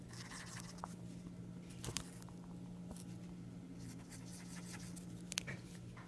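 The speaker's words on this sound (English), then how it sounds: "I'm just going to take that marker and put a dot in the top right corner of the first three note cards" A green marker dots the corners of paper note cards, giving faint, brief taps and short scratchy strokes over a steady low room hum, with no talking.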